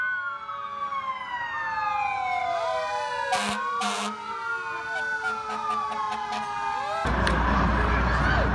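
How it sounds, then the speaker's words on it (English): Police car sirens wail and sweep up and down as cop cars roll through a parade at the Madison Regatta. Several sirens overlap at moderate distance, joined by short electronic yelps and engine rumble, with a louder burst at the end. "here comes all the cop cars"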